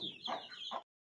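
Poultry-farm chickens clucking close by, a few short clucks in quick succession that stop abruptly after under a second.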